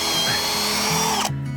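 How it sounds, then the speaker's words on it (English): A power drill bores steadily through old wood in a fence post hole, a loud close whine that holds for over a second, then cuts off and drops to a lower tone as the bit comes out. "Make sure you pull the drill out to get rid of all the old wood"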